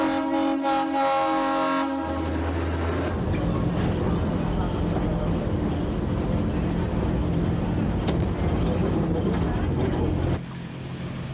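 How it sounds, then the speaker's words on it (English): An old Cuban train rolls steadily toward Havana, a loud continuous rumble of worn wagons on the rails with a sustained horn-like tone at the start, then broadband clatter and rattle throughout. "Taking its time, the train heads for the capital, Havana"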